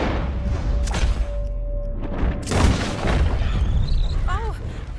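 A gunshot booms in Red Dead Redemption 2, a single loud low thump over game ambience, followed by a second duller impact and bird-like chirps near the end.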